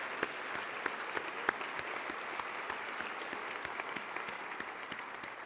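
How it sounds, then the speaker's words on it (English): Steady applause from a large crowd at a graduation hooding ceremony fills the space, dense clapping with a few sharper claps standing out, continuous throughout. "Let's give them a big round of applause"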